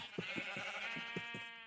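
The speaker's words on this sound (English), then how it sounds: "Sheep are loud." Sheep bleating in the farming video game Orca's Village, a long wavering bleat with a rhythmic pulsing tremor, close and clear, with no talk over it.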